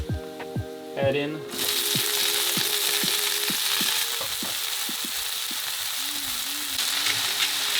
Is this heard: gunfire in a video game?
no